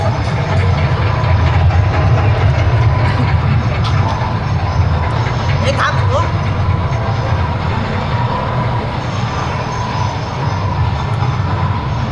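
Loud, continuous rumble of a train running on the tracks, steady low roar with faint clatter and no talking.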